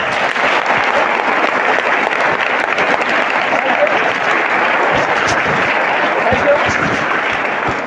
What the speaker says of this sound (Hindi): आप लोग जोरदार तालियों से सर का वेलकम करेंगे